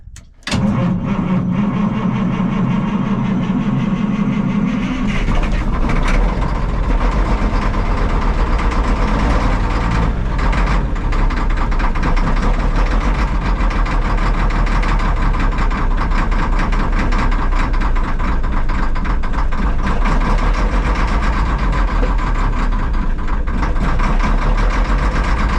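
A heavy diesel engine is started with an ether assist: a brief cranking burst gives way to a loud, steady, rough idle that rumbles on for over twenty seconds, close and continuous with no voices.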